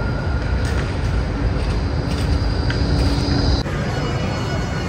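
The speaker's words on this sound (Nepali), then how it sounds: "अब यहाँ आउँछ मेरो ट्रेन" A train pulls into a suburban station in Australia, a steady loud rumble of wheels and carriage noise filling the clip, with a high whine and a brief clunk near the end.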